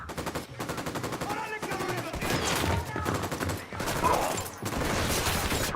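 Rapid automatic gunfire in Tom Clancy's Ghost Recon Wildlands: repeated close, loud bursts of shots with brief pauses between volleys, and a voice talking in places.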